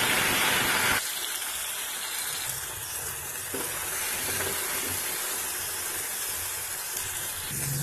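Tomatoes dropped into a hot pan with small onions for a mango vathal kuzhambu, a loud burst of hissing that settles into a steady, close frying sizzle.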